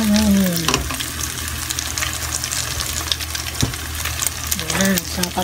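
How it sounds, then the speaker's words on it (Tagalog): Leftover rice poured into a hot pan and stir-fried for Japanese fried rice (yakimeshi), giving a steady close sizzle with scraping stirs throughout, and a voice briefly speaking near the start and end. "At buhos ang tirang kanin."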